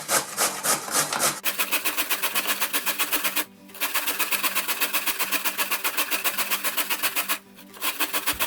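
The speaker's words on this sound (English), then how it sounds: "Use up and down motion, long strokes, and grate the whole carrot." A whole carrot is grated on a box grater with long up-and-down strokes, making a fast, even rasping rhythm. Two brief pauses break the run.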